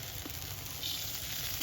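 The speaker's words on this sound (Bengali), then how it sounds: "এই আলুর দমটাতে হিং ফোড়ন দেব" Asafoetida sizzles in hot oil as a tempering for red aloo mutter dum curry on a terrace chulha. The hiss is soft, steady and continuous, heard alone.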